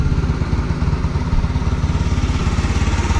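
A Yamaha MSI 115 motorcycle with a hybrid setup idles close by, its single-cylinder engine putting out a steady, even putter with a quiet, continuous rhythm and no voices.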